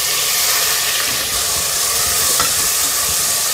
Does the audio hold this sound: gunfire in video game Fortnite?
no